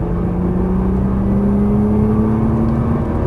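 A Nissan GT-R accelerating out of a corner on a track, its engine a loud steady whirring drone with a slowly rising tone held throughout, heard from inside the car with no speech.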